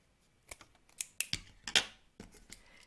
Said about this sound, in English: trim the excess fabric